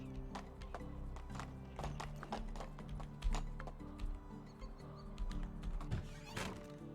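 Horse hooves clip-clop in Medieval Dynasty, the in-game horse Darkheart stepping at a steady, fairly close pace, with a few sharper knocks and a faint whinny over a constant game ambience and music.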